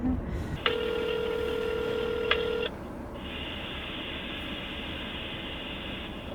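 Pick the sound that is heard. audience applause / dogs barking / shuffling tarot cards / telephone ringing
telephone ringing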